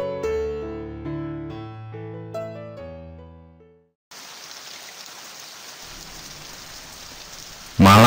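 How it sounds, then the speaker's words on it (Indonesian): Light drizzling rain as a night-time ambience effect in an illustrated story: after about four seconds of soft melodic music, a steady close hiss of rain fills the second half and ends in a louder burst. "Gerimis turun membuat suasana semakin sunyi."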